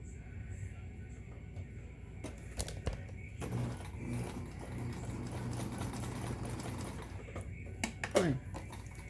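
A Kenmore sewing machine (model 1802, 2139 or 1601) runs through a stitch, giving a steady low mechanical hum with brief clicks and ratcheting taps, fairly quiet throughout.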